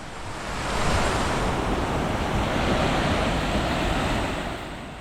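A cool mountain valley stream rushing with high flow, heard as a steady, loud broadband wash of water that swells slightly and holds constant throughout, with no voices.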